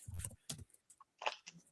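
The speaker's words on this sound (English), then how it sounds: "I think my typing might be loud again." Computer keyboard typing comes in short, faint clusters of clicks and taps with brief gaps between them, close to the microphone in a quiet room.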